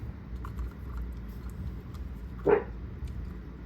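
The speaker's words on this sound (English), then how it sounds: "Why are you barking so much?" A small dog gives a single sharp bark that rises briefly above steady low background noise and light tapping, indoors while a Rogal Dorn model is being glued together.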